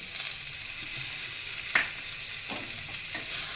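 Mustard paste of ground white mustard seed and green chilli, with turmeric, stirred in a hot frying pan for an eggplant fish curry; a steady sizzle runs throughout, broken by a few scraping stirs of the spatula, close and moderately loud.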